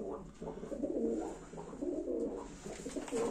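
Iraqi pigeons coo in soft, throaty, repeated calls, fairly close, with faint background noise and no talking.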